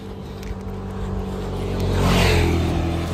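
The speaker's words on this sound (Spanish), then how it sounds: "Moto pasada." A motorcycle passes on a Spanish road during a van road trip, its engine rising to a loud peak at close range and then easing off, with a steady low rumble underneath throughout.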